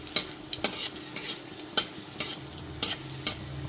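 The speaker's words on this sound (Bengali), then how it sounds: "গ্যাসের ফ্লেমটা লোতে রেখে ফোড়নটা হালকা করে এখানে ভেজে নিচ্ছি" Nigella seeds and slit green chillies fry in oil on a low flame, a soft sizzle punctuated by regular scraping strokes of a spatula against the pan.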